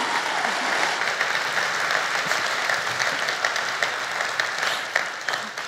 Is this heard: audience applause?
yes